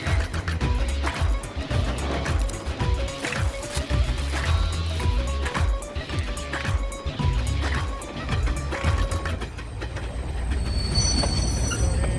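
A train rumbles through Jhunjhunu railway station, its heavy wheels clattering and squealing on the rails, with rolling, thudding noise and a continuous loud din close by.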